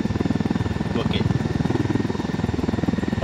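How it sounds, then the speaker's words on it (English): A helicopter in Ghost Recon Wildlands thuds nearby with loud, rapid rotor beats, steady and continuous. "I'm not letting them take their plane, I mean helicopter"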